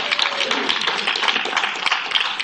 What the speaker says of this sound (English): give yourselves a round of applause, please